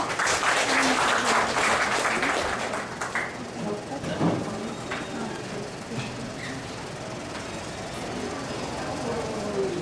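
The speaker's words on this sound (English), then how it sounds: "A round of applause, everyone" Applause fills a hall at an interfaith gathering as an associate dean is welcomed for opening remarks, a broad steady wash of hands clapping that fades somewhat midway and swells again.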